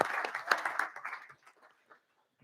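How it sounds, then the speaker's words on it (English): Brief applause in a House hearing room during a local government committee meeting, a short burst of clapping from a small group that quickly fades to quiet. "Give her a hand of applause there."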